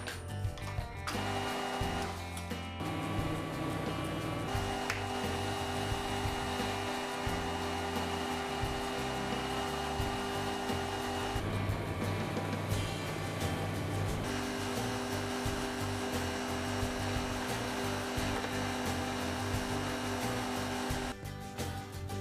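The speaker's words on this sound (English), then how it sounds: "I'm going to mount this polishing disc on the lathe shaft, allowing me to obtain a more professional finish." A lathe spinning a polishing disc to buff knife parts gives a loud, steady motor whine throughout, with the pitch and grinding texture shifting as the work is pressed on and eased off.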